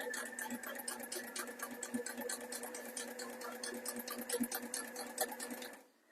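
A Sailrite Ultrafeed LS walking foot sewing machine stitches a single row of material with a steady, rapid mechanical clatter that runs close and loud without a break, then stops abruptly at the end.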